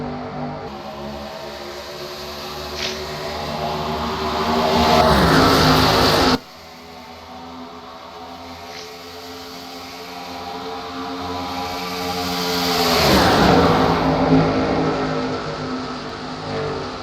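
Race cars in the 2009 MG Cup Series lapping the Auto Club racetrack, engines swelling loudly as each pack passes close by, then fading, with a steady drone of running cars in between.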